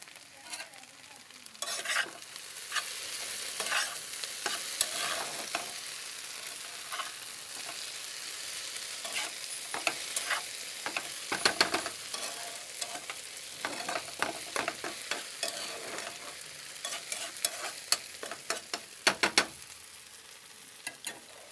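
Okra, bhindi bhaji, fries in a pan with a constant soft sizzle, while a spatula stirs it with repeated close scrapes and clinks against the metal throughout.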